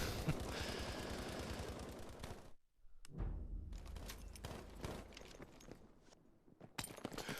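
Enemy light machine gun firing in a video game, rapid sustained bursts of gunfire that cut out briefly, then resume in choppier volleys with scattered shots.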